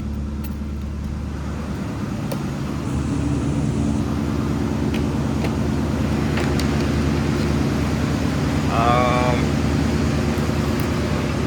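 A boxy older Chevy idles steadily while warming up, a low continuous engine rumble throughout, with brief speech over it.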